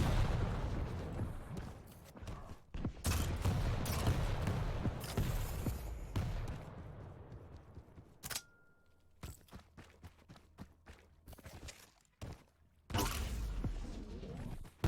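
Rocket explosions from rocket jumps in a Quake duel final, booming in quick bursts and clusters of loud blasts with short pauses between, no talk.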